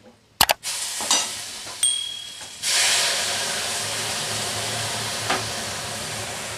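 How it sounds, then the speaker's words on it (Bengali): Khesari dal poured into a hot pan: a few clatters and knocks, then a sudden loud hiss that settles into a steady, sustained sizzle and steaming; no talking. "এবার আমি ডালটা ঢেলে দিচ্ছি"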